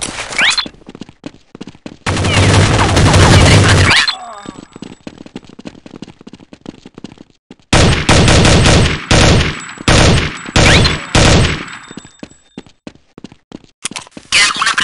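Bursts of automatic gunfire from Counter-Strike: Condition Zero in an office map, with long sustained volleys alternating with short rapid rattles, loud and close, plus a few shouted voice lines between the shooting.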